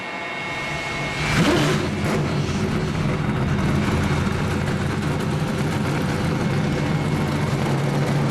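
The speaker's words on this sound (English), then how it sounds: "36 trucks, all coming to life" Thirty-six race truck engines fire up at Talladega for the 2009 Mountain Dew 250, a rising burst of cranking and revving that swells into a loud, sustained roar of many engines at once.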